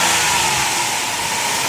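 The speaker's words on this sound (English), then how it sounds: "Let's pop the hood so you can hear it run." A 2005 Dodge Caravan SXT's 3.8-liter V6 runs with the hood open, a steady, loud, even engine drone heard close up with no talk.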